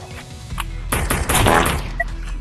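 Gunfire in the video game Animal Rivals, a dense burst of rapid overlapping shots that builds and peaks, then tapers to a couple of isolated pops, loud and close with no talking.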